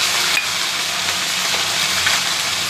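Chilli, ginger paste and ground cumin frying in hot oil in a pan for a cauliflower and potato curry, a steady close, loud sizzle with soft hissing throughout.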